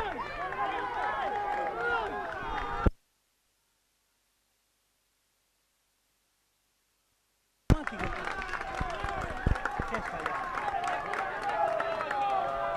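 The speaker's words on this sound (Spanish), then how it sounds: "El aplauso de la gente de López que se está llevando un triunfo como local" Home supporters of Argentino de López cheer in a stadium after a goal during a local derby, a broad roar of crowd noise with scattered applause. The noise cuts out completely for several seconds, then the crowd swells back at the same steady level.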